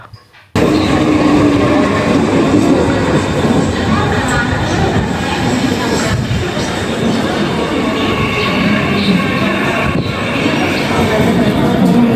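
A local commuter train runs close by with a steady, loud rumble and wheel clatter, holding a continuous roar for about twelve seconds after a sudden start.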